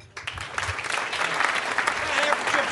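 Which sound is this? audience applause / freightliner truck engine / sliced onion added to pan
audience applause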